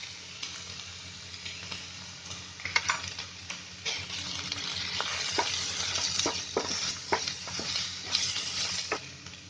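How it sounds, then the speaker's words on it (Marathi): Chopped ivy gourd stirred into a spice masala of onion, coconut, tomato, chilli powder and turmeric, sizzling steadily in the pan, with irregular scraping and clinking spoon strokes close by. "ते चांगले हलवायचे मसाल्यामध्ये"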